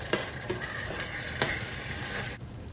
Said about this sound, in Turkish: Salçayı kokusu çıkıncaya kadar kavurduktan sonra çok az su ile birazcık açıp sos